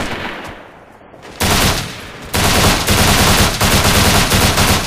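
Sustained video-game gunfire from Operation Flashpoint: Red River, loud and close, with a quieter lull before rapid automatic bursts and single shots build into a dense, continuous firefight.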